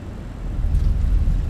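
Fenix A320 airliner touching down on the runway at KSAN in a flight simulator, a low rumbling roar that swells and thumps as the wheels meet the ground.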